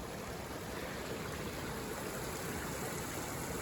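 Creek water in the woods flows steadily near a flat, rocky stretch of land, a continuous close rushing and burbling that holds even throughout with no voices.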